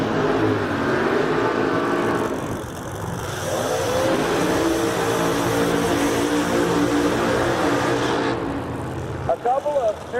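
Supercharged drag race engine of a 1970 Charger running on boost, loud and sustained with a broad roar and shifting tones, as heard at a muscle car drag race elimination; an announcer's voice talks over it.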